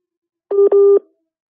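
Telephone dialing tones mark a call connecting: two short steady electronic beeps with a brief gap between them, fairly loud and clean, with no talk over them.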